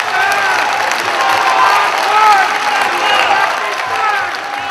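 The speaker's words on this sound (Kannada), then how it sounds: "ಆಗ ಆ ಭಾಷಣ ಕೇಳಿದ್ದವರು ಅದಕ್ಕೆ ಶಿಳ್ಳೆ ಚಪ್ಪಾಳೆಗಳನ್ನ ಹೊಡೆದು" An audience at an ISI conference whistles and applauds a speech, producing a dense, continuous wash of clapping and crowd noise with shrill whistles rising through it, loud and sustained throughout.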